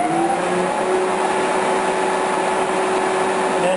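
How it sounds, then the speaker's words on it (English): An electric pusher fan for the transmission cooler on a Chevy truck with a Cummins swap runs with a steady, loud whir and faint whine, continuous and without talk. "this fan on the outside for the transmission cooler is going to be a pusher"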